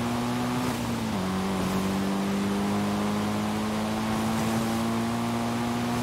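A B-class car's engine in Forza Horizon 5 holds a steady, loud drone as it builds speed on a long run-up to a stunt jump, the pitch dipping briefly then settling into a sustained hum with no talk.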